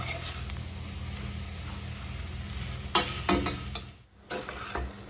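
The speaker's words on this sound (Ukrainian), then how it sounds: "перемішуємо постійно, обсмажуємо його до такого сірого кольору" Finely chopped ingredients for a Mexican soup fried and stirred in a pan, a steady close sizzle with spatula scrapes, a louder stirring burst midway and a short lull.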